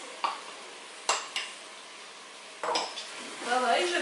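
A spoon stirring a mixture with about 20 centilitres of tomato concentrate in a pot, giving a few scraping clinks against the metal and a soft wet churning near the end, close and moderately loud with no talk.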